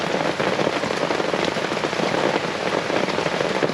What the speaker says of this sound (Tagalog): Grabe, walang tigil yung ulan.